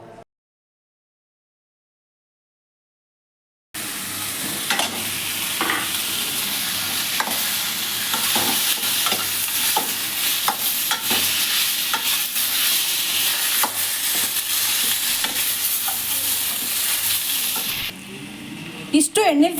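Tomato and turmeric stir-frying in hot oil in a pan, a steady close sizzle with scraping stirs that starts after a brief silence and runs on without talk.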